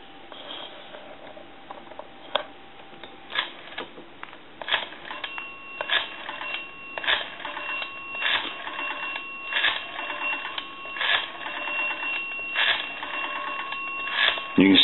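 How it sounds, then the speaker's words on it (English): Western Electric 202 rotary telephone being dialed during repair, a close series of mechanical clicks and dial-return whirs in repeated bursts, with faint tones and intermittent talk underneath. "we can dial the telephone"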